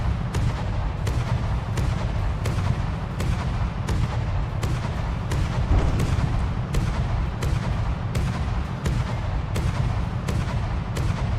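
Gunfire from the naval combat game From the Depths: regular sharp shots roughly every half second over a dense, steady low rumble, continuous and loud throughout with no talk.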